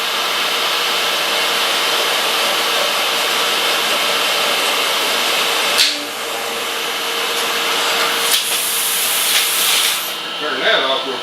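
A metal lathe runs under automatic feed at three thousandths per revolution while boring, giving a steady broadband hiss and whir throughout, with a few brief clicks and shifts near the end.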